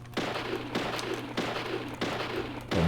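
Pistol shots in the video game Deadly Premonition, a regular run of four or five sharp broadband cracks roughly every half second over a steady low hum, loud and close, with no talk.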